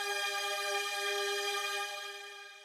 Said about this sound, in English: Moving on to the actual strings, we have Drama Strings SRX from Xenology.